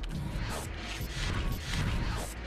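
In the Portal Flash Version game, a box drops out of a dispensing machine with a clattering mechanical rush, a thudding crash and rattling gears, loud and close for about two seconds.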